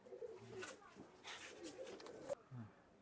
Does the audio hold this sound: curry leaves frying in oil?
no